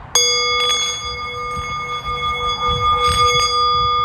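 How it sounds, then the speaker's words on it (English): A meditation bell is struck, giving a sharp metallic strike that rings on as a steady, sustained tone with layered overtones, slowly holding through a few seconds with faint background noise. "he do like a 5-minute meditation or a 10-minute meditation, and then he hit the meditation bell"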